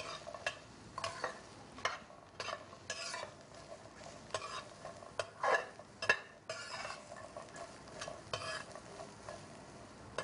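Shallots dry-roasting in a pan for Thai chilli paste, heard as a quiet, scratchy sizzle with repeated scraping and stirring knocks and occasional light clinks of the utensil against the pan.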